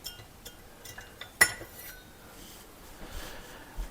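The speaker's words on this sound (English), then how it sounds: "Let me get a knife." A knife clinks against other cutlery as it is pulled from a drawer in a home kitchen, one sharp metallic chink standing out among a few fainter taps.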